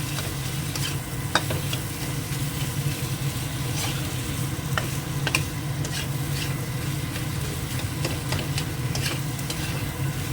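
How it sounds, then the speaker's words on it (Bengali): Mutton liver frying in a pan, sizzling steadily and loudly throughout, with irregular scraping and clatter as it is stirred; no talking. "এবার দিয়ে দেবো এর মধ্যে এই যে মেটেটা এটা খাসির মাংস মেটে এটাকে লিভার ফ্রাইও বলা যায়"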